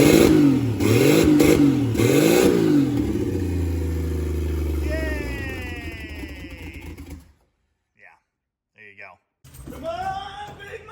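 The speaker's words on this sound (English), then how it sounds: "that is a running EFI Turbo 170 Slant 6" A turbocharged, fuel-injected 170 Slant Six engine on a solid-mount build with downpipe and wastegate runs close by, its pitch swooping up and down through loud revs before it cuts out to near silence and then catches and revs again.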